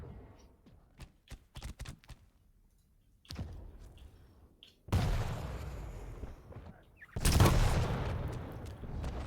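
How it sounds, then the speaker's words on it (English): Quake Pro League match gameplay with bursts of weapon fire, including heavy rocket launches and explosions, sharp rapid shots early, then loud booming blasts with rushing tails. "Big defensive rocket from Dewey."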